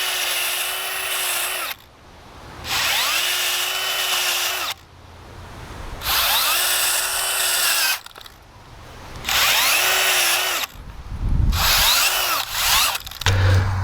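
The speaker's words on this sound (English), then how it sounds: "So I've drilled 5 holes in the space of, I don't know, 10 or 15 seconds with absolutely no effort" A power bulb-planter auger on a drill bores holes in garden soil in five loud, whirring bursts of a few seconds each, with brief quiet gaps between them and some gritty scraping as the soil is cut.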